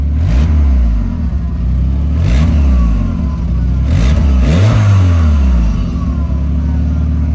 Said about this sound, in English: If you're just slightly revving it, you'll hear the turbo spool up pretty cool.